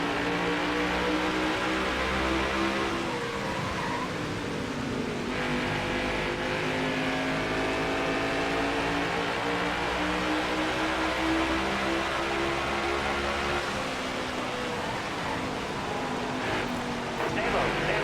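Race car engines roar steadily in NASCAR Heat 5 at Richmond, a loud continuous multi-car drone with rising and shifting revs throughout, mixed with faint background chatter.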